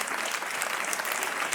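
Studio audience applause on a televised quiz show as a contestant wins a cheque, dense steady clapping throughout without a break.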